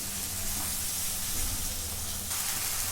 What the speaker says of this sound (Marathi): आता हा टमॅटो त्याची पेस्ट आता इथून परतून घेते